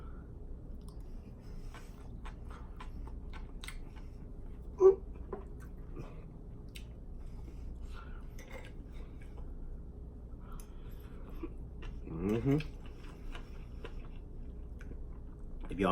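Someone eats kimchi fried rice close to the microphone, with soft, wet chewing going on throughout and a few louder bites along the way.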